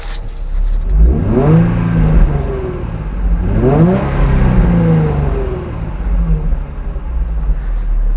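A Nissan 350Z engine revs up twice, each rise climbing sharply then falling back to a low idle rumble; loud and close.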